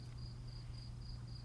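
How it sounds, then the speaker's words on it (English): Crickets chirp steadily at night in regular, evenly spaced pulses over a low background hum, faint and continuous with no talking. "I'm listening to the crickets and I'm relaxing"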